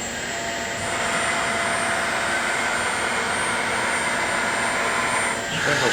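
The spindle of a Southwestern Trak DPM-V5 vertical bed mill with a Ridgid head runs at 1250 rpm, producing a loud, steady whirring hum with a high whine, close by and unbroken throughout.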